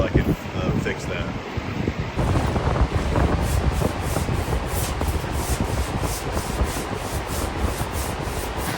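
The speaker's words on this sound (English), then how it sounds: "I'll get this sanded so I can fix that" Hand sanding 3M glaze filler on a 1985 Jeep CJ7 body, a continuous close rasping rub in repeated back-and-forth strokes that carries steadily through the whole stretch, with a faint breathy hiss in the background.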